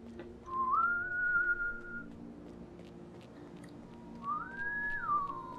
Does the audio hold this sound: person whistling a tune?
yes